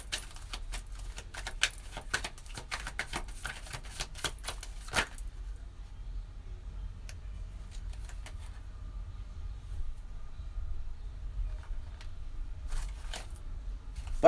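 Tarot cards shuffled and drawn from a deck: several seconds of dense, rapid papery clicking and riffling up close, then a few scattered soft taps as cards are pulled, no talk.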